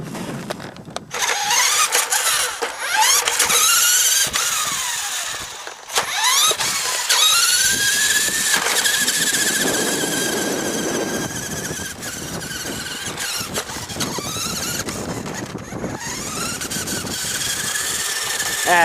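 An old Hot Machine radio controlled toy truck drives in reverse, its small electric motor whining and squealing with rising and falling pitch sweeps, loud and close throughout.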